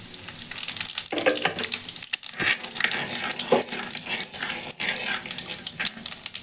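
Asafoetida and cumin seeds dropped into hot oil for a pumpkin sabzi, crackling in a steady dense sizzle close to the pan, with a few sharper spatters and stirring scrapes throughout.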